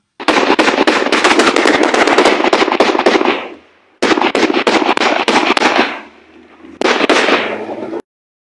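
AK rifle gunfire in urban fighting: long, loud, rapid bursts of automatic shots, three sustained volleys separated by brief pauses, close and harsh.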